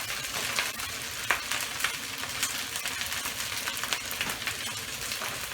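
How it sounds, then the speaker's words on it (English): Fried rice sizzles steadily in a hot pan, a dense continuous crackle with occasional sharper pops and spatters, close and alone. "Let it fry down a little bit"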